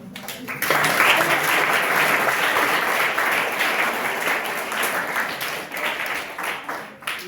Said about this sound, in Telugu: ప్రతిదానికి చప్పట్లు కొట్టకండి